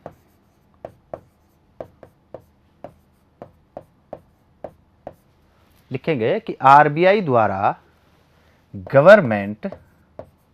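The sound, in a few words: writing on a board during a lecture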